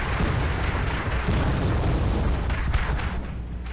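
Artillery fire in the real-time strategy video game Wargame during a multiplayer match makes a dense, continuous rumble of booms and blasts, loud and sustained, with no speech over it.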